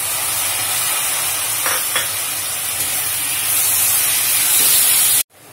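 Tomatoes sizzle in hot oil while sambhar masala cooks. A loud, steady frying hiss runs throughout, with a couple of faint stirring clicks, before cutting off abruptly near the end.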